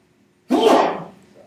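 A single sharp human sneeze bursts out close by after a moment of near silence, then trails off quickly.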